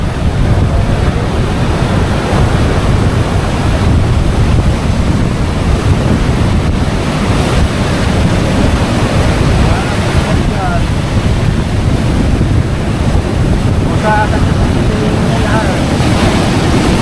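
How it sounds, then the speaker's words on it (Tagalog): Large ocean waves crash against the shore during a storm surge that damaged nearby houses, making a loud, unbroken roar of surf mixed with heavy wind buffeting the microphone throughout. "Grabe talaga ng alon."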